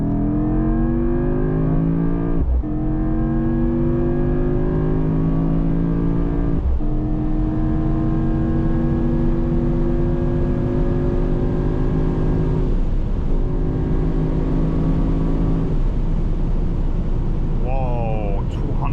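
A Mercedes-AMG GT63 hybrid V8 in Sport Plus mode accelerates at full throttle on an unrestricted German Autobahn at night. Loud, continuous engine roar with rising pitch climbs through several gear changes, each marked by a brief break.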